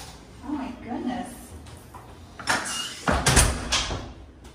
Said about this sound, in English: I have problems with doors.